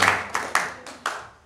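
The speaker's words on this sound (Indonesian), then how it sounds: "Tepuk tangan dong buat Pak Haji Rahmadi." A handful of sharp, separate hand claps from the audience at a district government work meeting in Murung Raya, four or five distinct close claps with echoing decay rather than full applause.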